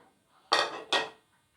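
Flour, milk powder, sugar and black cumin being mixed in a bowl, two short scraping clatters of a spoon against the bowl, close and alone.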